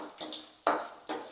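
Dried red chilies spluttering in hot oil in a Telugu home kitchen, three short sizzling bursts spaced about half a second apart, close and moderately loud.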